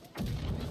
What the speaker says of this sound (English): Cannon down right side now.